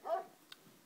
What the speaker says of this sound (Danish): Okay, og så en hund.